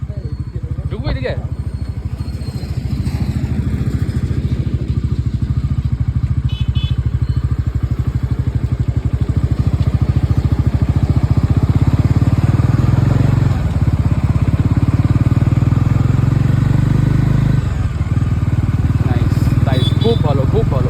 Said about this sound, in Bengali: সাউন্ডটাও কিন্তু দারুণ, একটা পুরো স্পোর্টি বাইকের মতো একটা সাউন্ড আছে